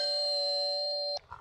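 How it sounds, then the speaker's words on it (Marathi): An electronic doorbell on a Marathi stage play set rings once with a sustained bright tone lasting over a second, then cuts off into faint stage noise. "बाहेरची बेल वाजते दारुगडा."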